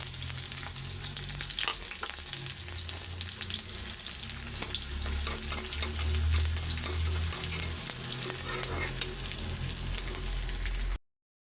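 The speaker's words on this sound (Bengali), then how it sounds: "তো এই ভাত এখন ভাজা করব।" Leftover cooked rice frying with onion, garlic and dried chilli in a wok on a stove, a steady close sizzle with scraping stirs and clinks running throughout, no voices.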